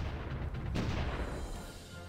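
Artillery bombardment in a strategy war game, a single heavy, muffled boom rolling out over a low rumble, fairly quiet and distant, with no one talking.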